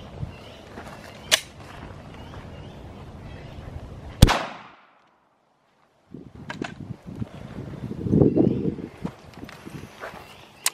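A Glock 19 pistol fires into drywall indoors, one sharp loud report followed by a brief silent gap, with footsteps and handling noise around it.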